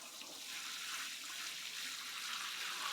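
Water poured onto newly planted melon plants in a greenhouse, a steady soft splashing and trickling that runs continuously and evenly at close range with no talking.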